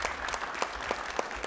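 Audience at a medical conference session on epilepsy clinical trials applauds the speakers, a steady wash of clapping with a few louder claps standing out, no talk over it.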